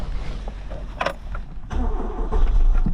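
Engine of a Peugeot 205 cranking and catching, starting somewhat roughly and stumbling, a low rumble building and rising in loudness toward the end, close by with no talk.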